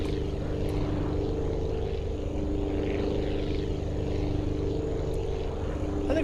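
Propeller airplane engine in a flight-building game, a steady droning hum holding constant and fairly loud throughout, with no talk.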